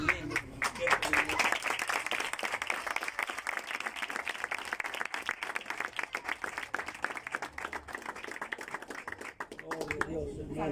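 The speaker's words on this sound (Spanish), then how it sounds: "Otro fuerte aplauso, hermano" A congregation at a religious service claps in a fast, steady burst of applause, close and continuous, with voices faintly underneath.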